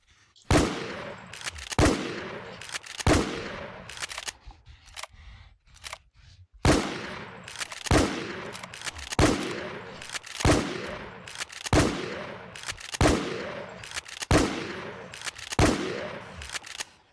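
The KT Decider shotgun fires in the video game Infestation: a series of loud, sharp blasts spaced roughly a second apart, each with a short decaying tail, with one brief pause partway through.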